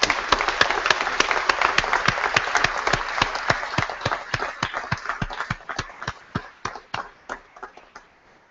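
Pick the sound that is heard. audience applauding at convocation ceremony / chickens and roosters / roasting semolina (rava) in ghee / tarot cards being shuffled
audience applauding at convocation ceremony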